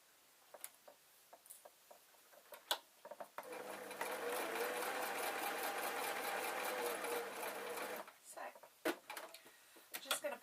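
A sewing machine stitches a denim skirt in one steady run of about four seconds, close and clear. Fabric is handled around it, with taps and rustles before and after.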